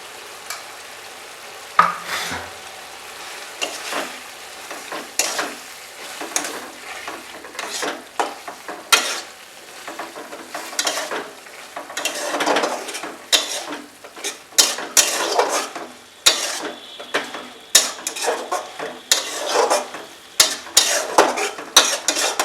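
Prawns and poppy seed paste being stirred in a frying pan for a Bengali drumstick-stem dish, with a spoon scraping and clinking steadily against the metal over a soft sizzle, close and continuous with no talk.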